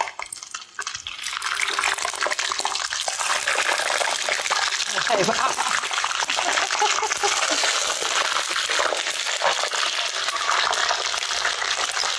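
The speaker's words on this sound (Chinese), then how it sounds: "我们按照顺序把它下去，把它做一个煎炸的动作" Meat-stuffed green peppers dropped into hot oil, frying with a loud, steady broadband sizzle and crackle that swells after the first second and holds throughout, with a voice speaking briefly.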